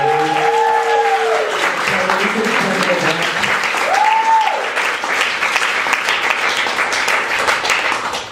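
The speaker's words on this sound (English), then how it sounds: "Can we just get a round of applause?" An audience at a poetry reading breaks into loud, sustained applause that fills the room, with a few voices and whoops rising briefly through the clapping.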